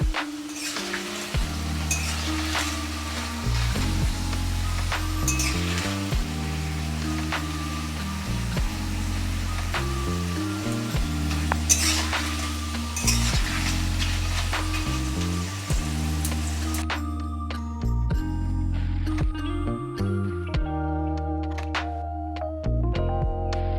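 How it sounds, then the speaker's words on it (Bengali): Raw green banana slices fry in hot oil without any spices, giving a steady, continuous sizzle with occasional utensil clinks, set against tonal background music. "এই লাস্ট বারের চিপসগুলো আমার ভাজা হয়ে গেছে,"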